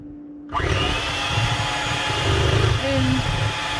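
A blender snaps on abruptly and runs with a loud, steady whirring roar, its pitch shifting slightly as it churns, while a voice speaks briefly over the motor near the end.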